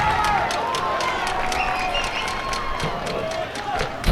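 Baseball crowd of O'Connor fans cheering and clapping at an evening series game, a dense, steady roar of applause and shouts that holds throughout.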